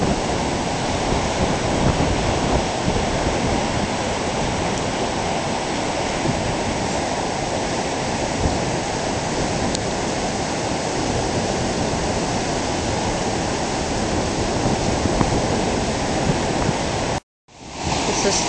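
Water in Walnut Creek rushes steadily below the stop sign hole, a loud, continuous broadband roar with a brief dropout near the end, and no talk.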